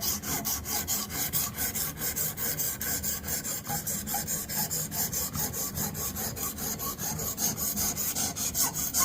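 A knife blade is drawn across an 800 grit stone on a Xarilk Gen3 sharpener, giving a steady, continuous rasping scrape with rhythmic back-and-forth strokes, close and alone.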